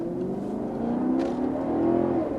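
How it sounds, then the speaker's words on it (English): The V8 engine of a Maserati GT revs up with a loud, smooth, rising growl that holds and swells steadily throughout, heard from nearby with no speech. "Just the sound of that V8 is absolutely incredible"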